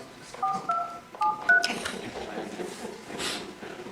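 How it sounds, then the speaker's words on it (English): A telephone number is keyed on a phone: several short, clear touch-tone beeps in two quick bursts, followed by quieter room noise with faint talk in the background. "Amy, would you mind calling them?"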